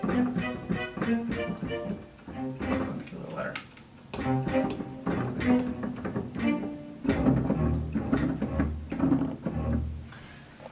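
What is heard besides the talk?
orchestral strings playing with their bows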